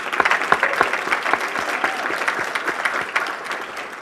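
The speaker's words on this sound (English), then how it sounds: "please give Darrell another round of applause" An audience at a Black Caucus gubernatorial forum gives a steady round of applause, a dense clatter of many hands clapping indoors that fades slightly toward the end.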